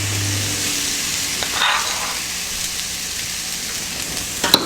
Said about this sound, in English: Mix in the turmeric and the salt with the cauliflower and cumin seeds.